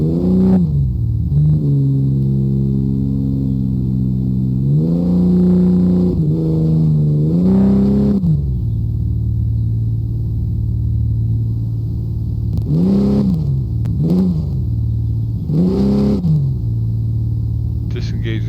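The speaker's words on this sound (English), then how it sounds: "we're going to hit B to start the engine. Just starting the engine." In the Offroad Mechanic Simulator video game, an off-road vehicle engine starts and idles with a steady low hum, revving up in several rising surges, loud and continuous throughout.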